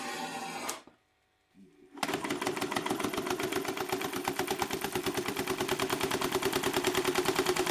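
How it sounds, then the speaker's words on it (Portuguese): A Stirling engine mounted on a motorcycle, running at 588 rpm, chugs in a fast, steady mechanical rhythm. It starts after a brief pause that cuts off an earlier sound, then keeps a loud, even clatter to the end. "Com o motor agora girando a 588 rotações por minuto"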